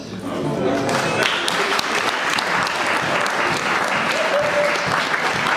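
A church congregation bursts into sustained, dense applause during a sermon, loud and continuous for several seconds, with voices mixed in beneath the clapping.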